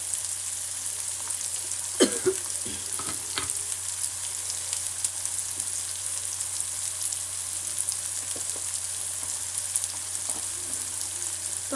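Onion frying in oil produces a steady, moderate hiss of sizzling from start to finish, broken by a few sharp utensil taps early on and faint stirring later, with nobody speaking.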